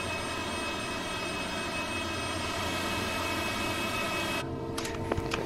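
Steady jet engine roar from a Cessna Citation CJ4 in Flight Simulator 2020, a continuous even drone that holds for several seconds, with a few faint clicks and brief tonal blips near the end.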